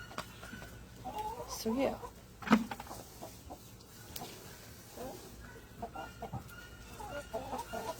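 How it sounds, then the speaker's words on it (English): Chickens clucking nearby in short, irregular bursts while eating bean strings, with a person speaking briefly among the calls. "These chickens are loving these bean strings."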